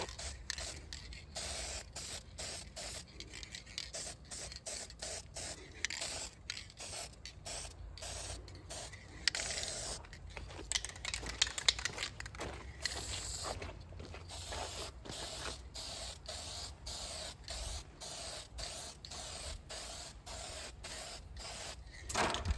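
Aerosol spray coating being applied to an interior part of a 1971 C3 Corvette, in many short bursts of hissing spray separated by brief pauses, close and steady throughout.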